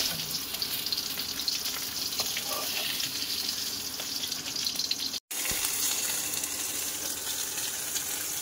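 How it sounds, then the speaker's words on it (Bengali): Vegetable curry with tomato and potatoes simmering in a covered pot: a continuous soft hiss and low bubbling, close and steady throughout, with no speech. "তরকারিটা কিন্তু কিছু ফুটছে"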